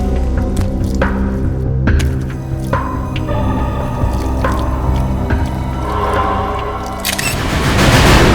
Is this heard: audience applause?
no